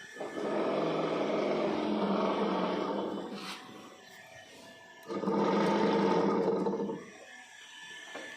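A motorcycle starter motor whirs and grinds in two long cranking bursts with a pause between, straining without the engine catching.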